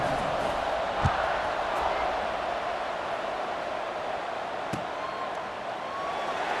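Stadium crowd noise from EA Sports College Football 26 roars steadily as a broad, continuous wash, with a couple of sharp thumps cutting through, no voices on top.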